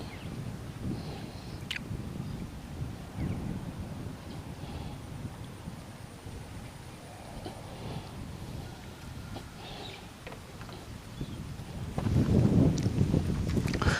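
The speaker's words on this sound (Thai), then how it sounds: "แต่นี่ลมมันแรงครับ" A strong wind blows at an outdoor fishing spot, giving a steady broadband rush that builds into a heavier buffeting gust near the end, with no voices.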